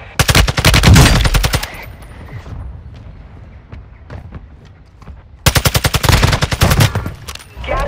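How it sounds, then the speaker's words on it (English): Heavy automatic gunfire in Call of Duty: Modern Warfare II, with two loud rapid bursts framing a quieter stretch of scattered distant shots and battlefield noise. "I'm taking effective fire! Bullets!"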